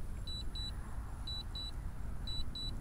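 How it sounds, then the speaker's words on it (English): A DJI Phantom 3 Standard drone controller beeps after losing signal: three pairs of short, high double beeps at regular one-second intervals, faint over a low rumbling background. "you can see where the phone is beeping, or the controller is beeping, and it's going back"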